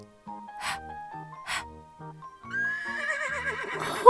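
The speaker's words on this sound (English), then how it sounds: "Horse." A horse neighs twice in quick succession, then whinnies with a long wavering call near the end, loud and close against a quiet background in an ABC learning segment for toddlers.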